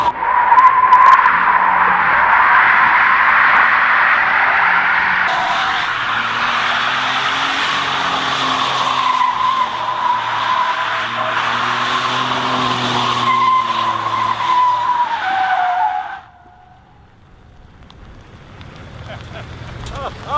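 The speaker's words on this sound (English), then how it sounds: "I think the fastest truck that we've ever tested deserves a celebratory burnout" A 2015 pickup truck, either a Ford F-150 2.7L EcoBoost or a Ram 1500 3.0 diesel, does a celebratory burnout with a loud, sustained tire squeal and engine roar lasting about fifteen seconds before cutting off abruptly.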